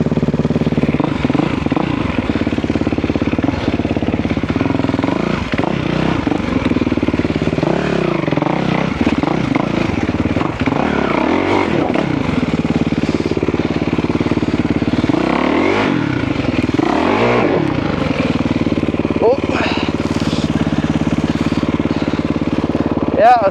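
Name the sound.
motorcycle riding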